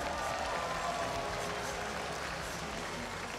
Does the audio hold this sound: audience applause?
yes